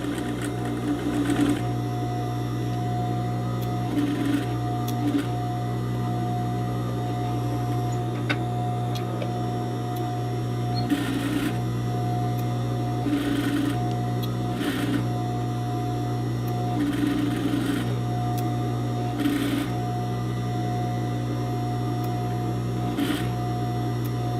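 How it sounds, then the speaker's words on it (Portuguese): Sewing machine running steadily while stitching a skirt zipper, a close continuous mechanical hum with short pauses and brief backstitch bursts throughout. "Dou o retrocesso. E aí vou costurando."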